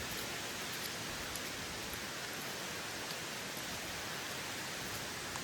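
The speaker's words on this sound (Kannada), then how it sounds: "ಜೋರಾಗಿ ಬಂತು ಮಳೆ" Heavy rain pours down near Donne Falls in Ankola, an even, unbroken wash of hiss that stays faint and steady throughout, with no voices.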